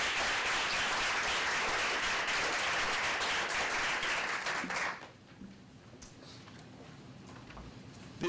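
A school board meeting audience claps for student honorees, a full, sustained burst of applause lasting nearly five seconds before dropping abruptly into near silence with faint room noise.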